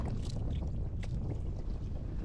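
A fishing boat's engine runs steadily while trolling for skipjack tuna at sea, a continuous low rumble mixed with wind buffeting and water noise, with no talking.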